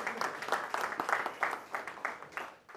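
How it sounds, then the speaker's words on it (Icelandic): Applause at a handball awards ceremony in Iceland, a modest crowd clapping in a loose, uneven patter that stays moderately close and fades out near the end. "Þá fyrir við skulum gefa hann gott klapp."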